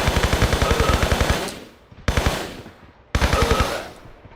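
Enemy guns in Tomb Raider 3's Antarctica level fire in rapid automatic bursts, one long rattling volley followed by two shorter ones, each cutting off sharply, loud and close with no voices.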